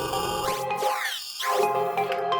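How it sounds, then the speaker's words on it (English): Crush sound color effect on an AlphaTheta XDJ-AZ DJ controller, degrading a playing track so the music sounds gritty and bit-crushed, with sweeping filtered swooshes and a brief thinned-out gap in the middle, steady and loud. "crush"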